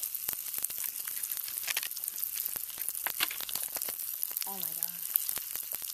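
Pop Rocks candy fizzing in Sprite gives a steady, close crackle of tiny pops and hiss that runs throughout, while a voice speaks briefly over it.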